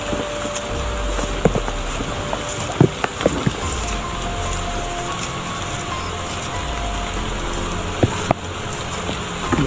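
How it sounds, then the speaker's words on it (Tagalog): Heavy rain pours down in a steady, dense broadband hiss, with scattered sharp knocks and taps on nearby surfaces and no talking. "Grabe ang ulan mga idol."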